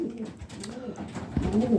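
Racing pigeons coo in their loft, close and continuous, with several overlapping low, throaty calls rising and falling; no one speaks.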